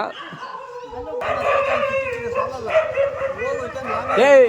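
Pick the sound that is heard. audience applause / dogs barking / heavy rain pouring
dogs barking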